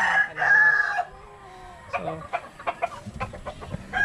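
Chickens cluck in a backyard pen and a rooster crows loudly near the start, then scattered clucks and short calls follow, fairly close, with no talk.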